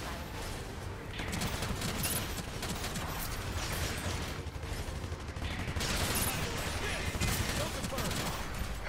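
Gunfire in the video game Gundam Evolution, with a ZAKU 2 fighting at close range, comes as dense sustained bursts of shooting, loud and continuous.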